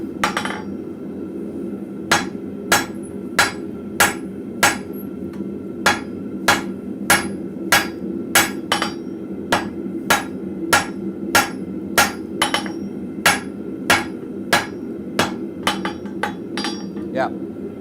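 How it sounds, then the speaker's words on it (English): Hot metal struck with a cross peen hammer at a blacksmith forge, a steady run of sharp metallic ringing blows about every half second, close and loud over a low hum of shop noise. "I'm going to start trying to hit that in my cross peen."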